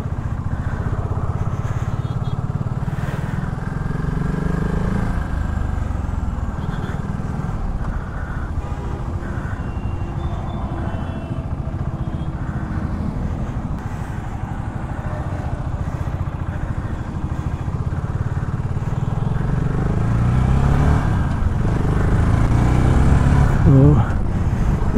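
A BSA Goldstar 650 motorcycle engine on an on-road test ride, a continuous loud drone mixed with rushing wind noise that swells toward the end, with a rider talking over it.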